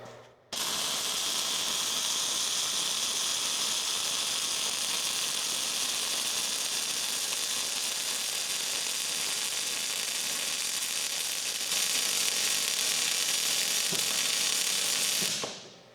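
Wire welder laying a bead on a Talbert trailer rear bogie, a loud continuous crackling sizzle held steady for about fifteen seconds up close, then cutting off abruptly, with no voices.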